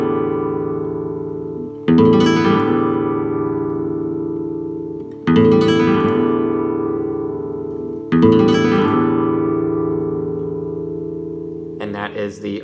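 On a flamenco guitar, an arpeggio arrastre is played at full speed. Three fast sweeping strums each ring out loud and close for a few seconds, and a brief scratchy flourish ends the phrase.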